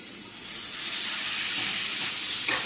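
Heaped crushed garlic drops into hot butter in a pan and sets off a loud hissing sizzle that swells in the first second and then holds steady and close, with a light scrape near the end.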